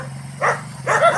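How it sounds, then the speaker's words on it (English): Two crazy dogs bark in short bursts, two rough barks close by, over a steady low hum. "Those two dogs, they're absolutely crazy."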